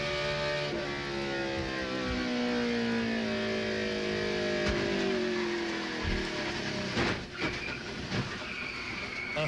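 Onboard a Craftsman Truck Series racing truck at New Hampshire after hard wall contact: a loud, droning engine with harmonic whines sliding downward as it slows, plus rattling and crackling clatter throughout, with no voices.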